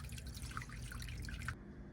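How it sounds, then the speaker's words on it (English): A hot water tank being drained and flushed into a container gives a steady rush of water with faint dripping, heard alone and cutting off near the end. "I'm gonna keep on flushing this until that comes out nice and clean."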